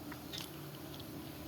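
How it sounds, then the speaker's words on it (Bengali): A bite into a green chili during a home lunch, giving a few short crisp crunches close to the mic over a steady low background hum. "এই লঙ্কা একটু কামড়ে দিলাম"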